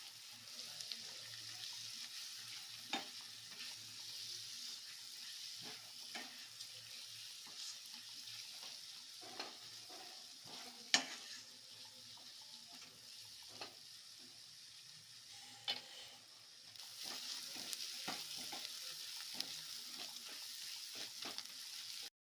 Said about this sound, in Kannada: ಒಂದು 5 ಮಿನಿಟ್ಸು ಚೆನ್ನಾಗಿ ಫ್ರೈ ಮಾಡ್ಕೋಬೇಕು.